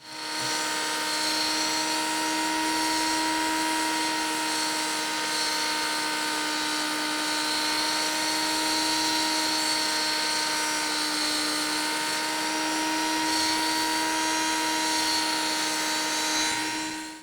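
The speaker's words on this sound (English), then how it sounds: "I switched over to one of these little sanding drums here." A high-pitched rotary tool fitted with a small sanding drum whines steadily and loudly, grinding continuously for the whole stretch with a constant motor tone and no talking.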